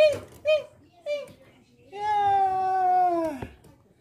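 A pet white cat meows indoors, a few short calls followed by one long, drawn-out meow up close, with a voice nearby.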